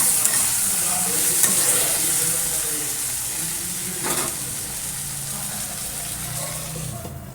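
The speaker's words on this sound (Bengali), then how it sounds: "আর এই যে ভাজা ভাজা হয়ে গেছে আনাজটা" Chopped vegetables and whole tomatoes fry in a pan with a loud, dense, continuous sizzle and crackle. Faint stirring runs underneath, and the hiss eases slightly toward the end.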